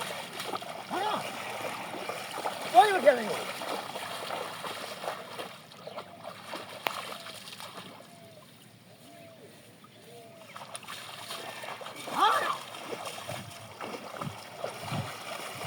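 Water splashes and sloshes intermittently as a cow is bathed in a canal, with people talking throughout and a quieter lull midway.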